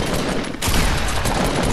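Assault rifle fire in the Fortnite video game, a dense, continuous burst of rapid shots that runs loud from start to finish with no voices over it.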